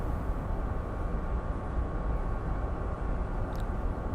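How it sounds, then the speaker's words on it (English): A tank rolls past somewhere in Ukraine, a continuous broad low rumble holding steady and fairly loud throughout, heard alone without any talking. "That was the sound of a tank going by."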